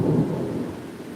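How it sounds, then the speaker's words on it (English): Heavy rain roaring steadily with a deep rumble of thunder rolling underneath, loud at first and easing slightly over a brief stretch. "Wow, that rain is crazy."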